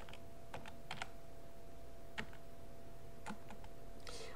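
Quiet, sparse typing on a computer keyboard while entering text in AutoCAD, with scattered single keystrokes and small clusters of clicks close to the microphone and no talk.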